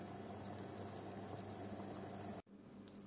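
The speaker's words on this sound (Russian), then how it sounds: "Варится мое сало в шелухе луковой." Salo pork belly simmering in onion skins with bay leaves and peppercorns gives a steady, close bubbling boil that runs evenly throughout, with a brief dropout near the end.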